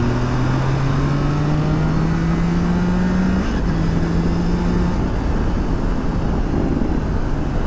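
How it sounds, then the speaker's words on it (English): A Triumph Tiger Sport 660 motorcycle accelerates from fourth gear, its engine note climbing steadily and droning loud and continuous under heavy wind rush, with no talking. "Let's see how it pulls from fourth gear."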